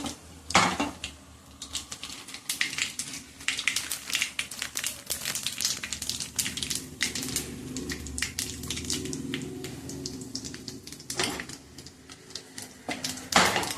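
Mustard and other tempering seeds stirred and crackling in a hot pan, a steady close clatter of utensil against metal with scattered sharper clinks and pops, no voices.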